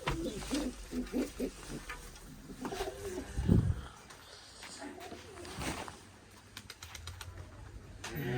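Domestic pigeons coo near their lofts, low soft calls under someone speaking, followed by a brief louder thump and quieter rustling background.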